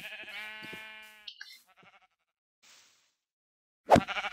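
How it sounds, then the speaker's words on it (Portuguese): Sheep in a Minecraft game bleat in a run of quavering, nasal cries, a long wavering bleat followed by shorter ones, then a sudden loud bleat near the end; no talking. "Você tá soltando minhas ovelhas, velho?"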